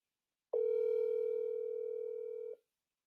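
An unanswered phone call rings with a single steady ringback tone that lasts about two seconds, clear and alone against silence.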